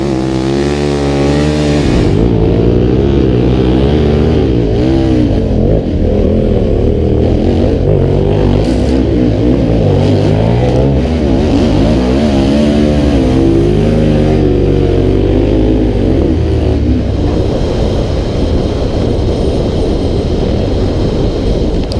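KTM 1190 R adventure motorcycle engine revving and accelerating along a Western Australian beach, loud and close with rising and falling pitch through gear changes, sustained throughout with steady wind rush.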